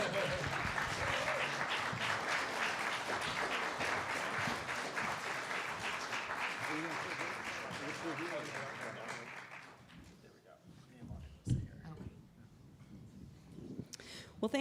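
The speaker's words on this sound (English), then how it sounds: "Welcome them with a round of applause," A live audience gives a sustained round of applause welcoming panelists to the stage at a transit urban design panel, dense clapping for about ten seconds before fading, followed by quieter room noise and a voice speaking.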